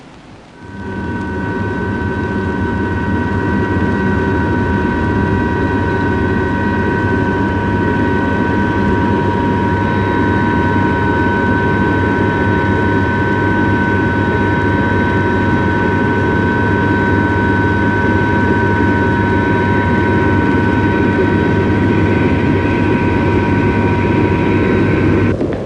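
Aircraft engines at Thornhill, a Rhodesian Air Force base, roar in a loud, steady, continuous drone with a whining tonal hum, close by and unbroken throughout with no voices.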